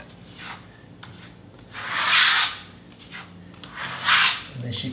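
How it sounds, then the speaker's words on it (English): Trowel scraping a thin Lusterstone plaster skim coat off a wall: two long, rasping swipes that swell and fade, with softer scraping strokes between them, close and alone without talking. "You'll scrape almost all the product off."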